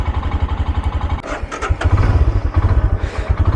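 A motorcycle engine catches and starts from cold on a Ladakh road trip, then settles into a lumpy, pulsing idle with a couple of light blips of the throttle, close and loud throughout.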